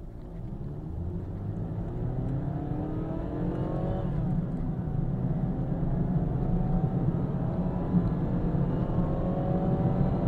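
A 2016 Mazda Demio with a 1.3 liter engine accelerates hard from 0 to 100 km/h, its engine note climbing steadily through the gears, loud and continuous from the cabin with no talking.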